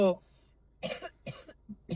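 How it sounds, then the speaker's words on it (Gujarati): A short burst of coughing at the start, then a few brief voice sounds after a pause. "આની ઉધરસ બંધ નહીં થતી"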